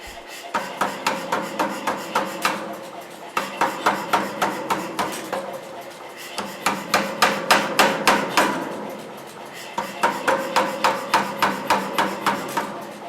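A power hammer forges a stainless San Mai dagger blade in three long runs of rapid, evenly spaced metallic blows, loud and close, with short pauses between the runs and no talking.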